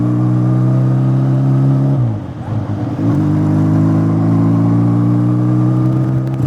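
A custom-modified Benelli PE 250 motorcycle engine on a test ride, holding a loud, steady low drone with a brief dip in revs around the two-second mark before settling back to an even, sustained hum.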